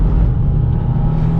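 A 2022 Subaru WRX with a six-speed manual drives a wet track at Road America, its engine giving a steady, loud, close drone that holds level without a break and is heard alone.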